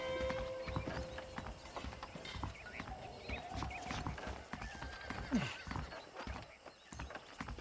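Horses trot with steady clip-clop hoofbeats in the Western game Red Dead Redemption, with an occasional whinny and faint ambient noise, moderately quiet and continuous.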